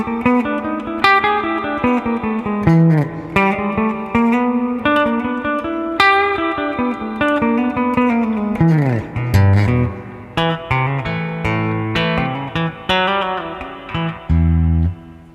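A lead guitar intro for a song, a fast, busy run of single-note phrases with bends and slides, steady and fairly loud with light effects and no voices.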